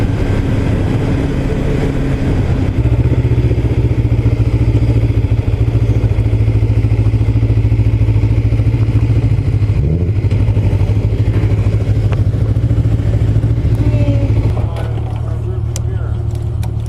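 Kawasaki Ninja 500 engine running steadily while riding at night, a loud continuous low drone with wind rush, and a voice talking over it throughout.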